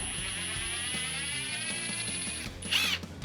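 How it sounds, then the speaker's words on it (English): A power drill driver unscrews a screw from a tyre, whirring steadily with a faint ratcheting pulse underneath, then a brief high squeal before it stops. "you can always try and get it out with a screwdriver or a drill driver"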